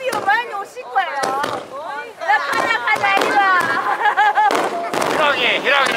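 Fireworks at the 2014 Kaze no Minato summer festival in Higashikagawa, with sharp bursts and crackling pops going off repeatedly under the near, lively talk of a watching crowd.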